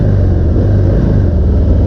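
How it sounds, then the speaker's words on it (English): A motorcycle engine being revved in a rev bomb, a steady, loud, close rumble that holds at a constant pitch throughout with no talking. "The whole idea of a rev bomb to me"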